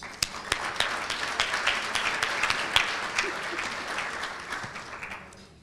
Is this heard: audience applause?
yes